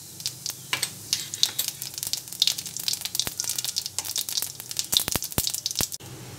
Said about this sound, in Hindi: 1/2 चम्मच हम इसमें जीरा डाल देंगे, जीरा का तड़का लगाएंगे।